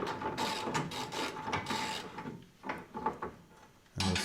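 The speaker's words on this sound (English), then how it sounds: "So I'll loosen this one off using a nice extension to make it easy." A ratchet on an extension loosens a metal fuel tank strap on an Opel Kadett historic rally car, giving irregular close clicking and clunking bursts with a short pause before a final knock.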